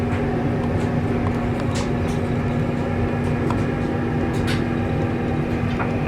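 A model train runs on a layout with a steady, continuous mechanical hum and faint rail rumble, close and even throughout, with occasional light clicks over the drone.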